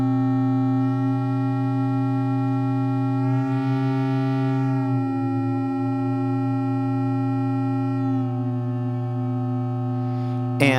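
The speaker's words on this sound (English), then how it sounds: "we're going to have two independent different feedback tones, the B to B tone and the A to A tone" Two independent sustained feedback tones from the Nirvana plugin, steady humming pitches with rich harmonics that swell, bend slightly and shift as a brighter whooshing layer rises and fades midway, ending in a brief crackling burst.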